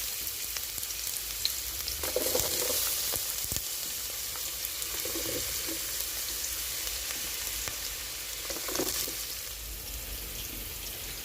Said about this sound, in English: Now for the chutney, I have in the pot about 2 tablespoons of olive oil, and it's already heated. And now I'm going to drop in 1 onion finely chopped.